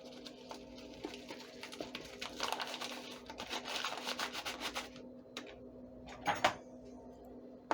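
Dry cheese powder shaken and poured from a paper packet onto a four-minute broccoli, mushroom and sausage dish, giving a soft rustling, crinkling patter, louder midway, with a few sharper crinkles near the end and a steady low hum beneath.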